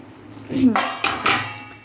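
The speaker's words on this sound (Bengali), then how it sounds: "তারপরে মা ঢাকনাটা খুলে দিল" A lid taken off a cooking pot, a soft scrape followed by two bright metallic clanks of the lid against the pot, close and fairly loud.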